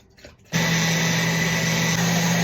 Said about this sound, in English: Here's my blender.